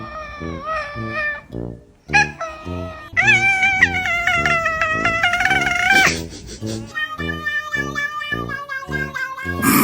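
A cat lets out loud, drawn-out, strange meows and wavering caterwauls, several vocalizations in a row with brief pauses between them, close to the microphone.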